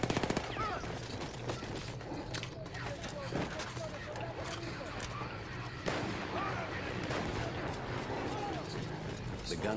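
A mounted machine gun in the video game Battlefield 1 fires in rapid, rattling bursts that run nearly nonstop, with mechanical clatter mixed in and a voice talking over much of it.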